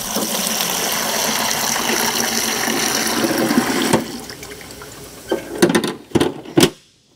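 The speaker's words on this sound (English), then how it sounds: "It fills up with water. And then we just transfer it to a bucket." Water pours out in a steady rushing gush for about four seconds, then trickles off into a few final splashes and drips.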